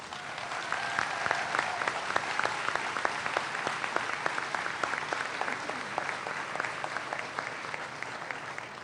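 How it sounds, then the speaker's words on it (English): Sustained, resounding applause for the returning Atlantis space shuttle crew in Houston, many hands clapping evenly throughout with distinct individual claps standing out from a dense crowd. "you all, in my opinion, deserve a resounding round of applause"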